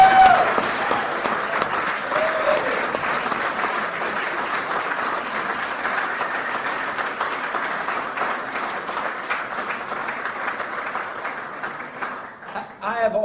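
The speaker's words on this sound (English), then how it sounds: "give Jenny a big round of applause" Sustained applause and cheering from a crowd at Ed FitzGerald's 2014 election concession speech, broad and steady for many seconds before thinning out near the end.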